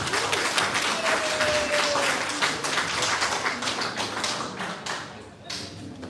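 Applause for a Trailblazer Award recipient at a holiday reception, a room full of people clapping in a dense, sustained patter at steady volume, with some voices mixed faintly underneath.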